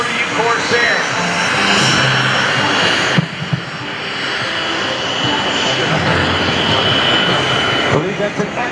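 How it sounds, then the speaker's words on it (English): An F4U Corsair warbird flies past at an airshow, its piston engine a loud, rough drone that swells and recedes. An announcer's voice carries over the engine. "We have an F4U Corsair."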